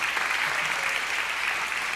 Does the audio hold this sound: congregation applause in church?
yes